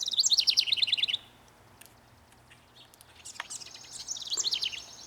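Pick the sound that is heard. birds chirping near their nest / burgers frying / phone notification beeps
birds chirping near their nest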